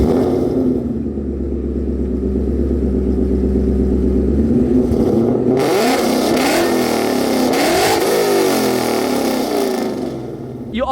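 Mustang V8 with catless long tube headers and a Borla S-type catback, revving up in rising, rumbling pulls for several seconds, then dropping into a rougher, crackling burble, loud and close.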